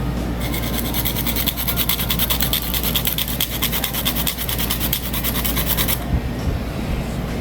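A whole nutmeg is rasped by hand on a grater, producing a loud, close, rapid scraping rhythm of repeated strokes that runs continuously before stopping abruptly near the end.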